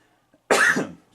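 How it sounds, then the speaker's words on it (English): A man coughs once, hard and close, the burst trailing off into a rasping throat clear, alone against a quiet room. "Or I need to clear my throat."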